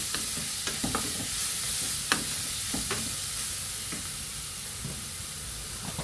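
Garlic frying in a pan for an aankh kukura tempering, a constant loud hiss and sizzle with intermittent stirring scrapes and taps, close and alone.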